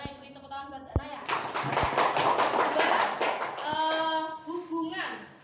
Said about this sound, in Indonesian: Beri tepuk tangan buat Mbak Naya